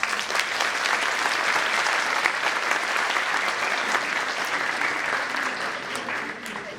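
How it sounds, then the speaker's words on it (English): Sustained applause from a large audience, dense and even clapping that holds steady for several seconds before easing slightly. "Please give them a huge round of applause."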